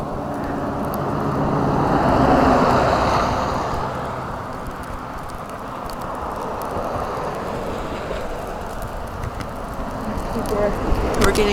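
Strong wind of a mixed-precipitation snowstorm squall roars outdoors near a street with vehicles, a broad steady rush that swells and eases, with a voice speaking over it.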